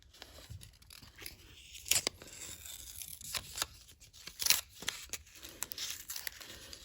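Protective plastic film peels off a sublimation-printed pendant in a series of close, crackling tearing strips, with crinkles and sharper rips coming in irregular bursts.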